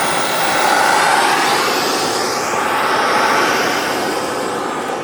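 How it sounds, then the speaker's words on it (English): A Freewing T-33/P-80 Shooting Star RC jet flies over Rabbit Dry Lake, its loud continuous turbine whine and rushing roar shifting in pitch as the model passes nearby, with no talking. "this little jet really flies super"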